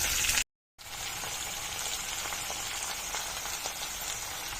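Chopped purslane leaves hiss in hot tempering oil with a steady, close sizzle, broken by a brief silent gap near the start before the frying resumes evenly.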